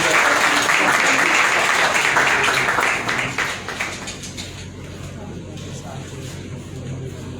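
Audience applause fills an award ceremony honouring young role models as a plaque is presented, a dense burst of clapping that fades after about three seconds into a quieter room with a low hum.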